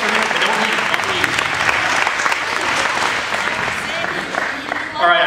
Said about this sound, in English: Give all of yourselves a round of applause, if you will.